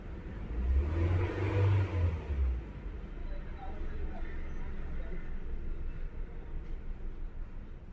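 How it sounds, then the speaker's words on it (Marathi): A Honda car's engine surges in a loud low revving burst for the first couple of seconds, then settles into a steady idle rumble, with faint talk in the background. "गाडी स्टार्ट आहे. आता तुम्ही एक्सिलेटर वगैरे काही पण करा"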